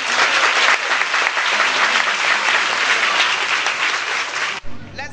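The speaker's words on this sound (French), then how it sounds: "On applaudit." An audience at a school ceremony in Bouaké applauds in a dense, steady burst of clapping that lasts several seconds, then stops abruptly.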